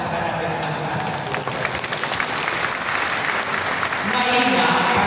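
Church congregation applause at a Friday evening El Shaddai worship gathering, steady dense clapping filling the whole stretch and swelling slightly toward the end.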